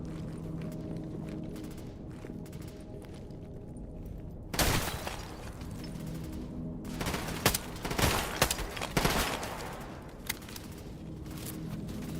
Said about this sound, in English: I can't even register that there's someone there and I'm getting shot at